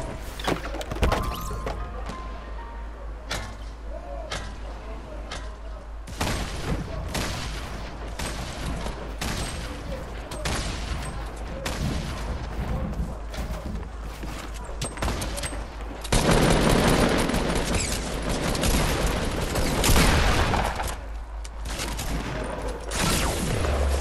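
Scattered gunshots and short bursts from the video game Fortnite pop throughout, some sharp and close, with a denser flurry of fire near the end and occasional talking.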